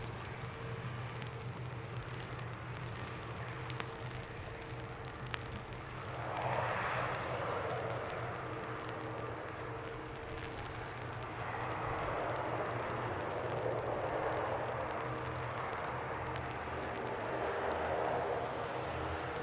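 A Ryanair airliner at Dublin Airport rumbles steadily at a distance, its engine roar swelling briefly midway and again toward the end over a constant low hum, with no talking.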